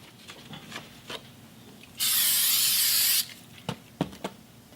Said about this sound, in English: some spray adhesive